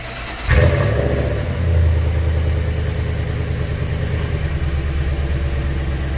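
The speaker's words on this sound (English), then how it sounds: "I did do a cold start up though, this doesn't have any exhaust modifications" A stock-exhaust Nissan Titan Pro-4X pickup's V8 cranks from a cold start and catches, roaring up with a loud rev before settling into a deep, steady, rumbling idle close by.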